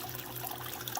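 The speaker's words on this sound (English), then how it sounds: "we are looking at my waterfall tank here" Water trickling steadily in an aquarium waterfall tank, a continuous close, even splashing with a faint low hum beneath.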